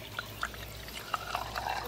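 Water is poured into an axolotl tank with faint splashes and drips. Small liquid plinks and trickles come at irregular moments over a quiet background.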